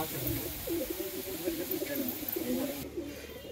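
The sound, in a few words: pigeons cooing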